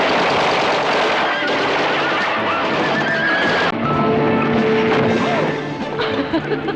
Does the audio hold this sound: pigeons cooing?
no